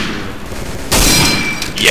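Gunfire from the World War II shooter Day of Defeat: a sudden loud burst of shots cracks out midway, followed by a sustained ringing tail, with quieter game ambience before it.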